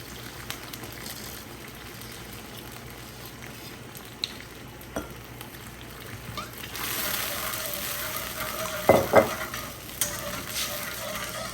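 Eggplant frying in a pan as vinegar and mirin are poured in, a steady low sizzle that swells and brightens midway, with a couple of sharp louder bursts of splatter near the end; no speech.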